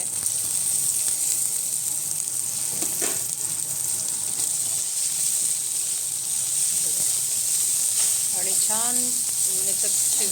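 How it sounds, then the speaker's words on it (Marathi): Finely chopped tomatoes drop into hot oil with asafoetida, giving a loud steady sizzle and hiss that runs the whole time, with brief stirring scrapes and someone speaking near the end. "आता असे टोमॅटो मी कापून बारीक कापून घेतले ते ते घालते"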